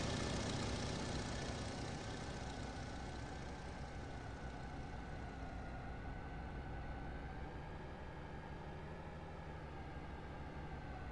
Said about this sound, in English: Got my 80s style Fendt tractors on this farm.